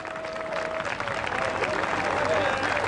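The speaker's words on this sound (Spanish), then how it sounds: "le damos un aplauso grande de alabanza al Señor" A church congregation at an outdoor park gathering claps in praise, sustained and fairly loud, swelling slightly toward the end, with voices calling out over the applause.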